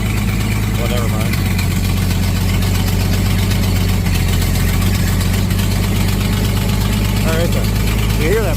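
An antique tractor engine runs loud and close at a steady idle, with the puffing tick of a leaking manifold gasket, while someone talks over it.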